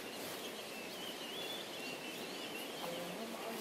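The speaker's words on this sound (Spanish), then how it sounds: "Montonón de patos." A dense, continuous chatter of a large flock of ducks calling together at a distance, with steady outdoor noise and no talking.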